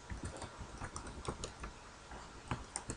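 Rapid clicking of keys on a computer keyboard, a steady run of close, crisp taps with a few louder strokes near the end, no talking.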